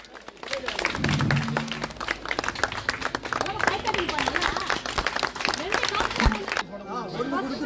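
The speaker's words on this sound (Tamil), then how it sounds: "கைத்தட்டுங்கப்பா எல்லாரும்" An outdoor Republic Day community gathering breaks into crowd clapping, dense and steady for several seconds, mixed with chatter and voices nearby before it stops abruptly.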